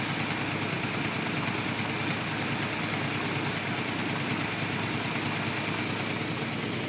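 A 1977 Scottsdale truck with a 283 stroker V8 idling, a continuous rough rumble held at a steady level throughout, close by with no talk.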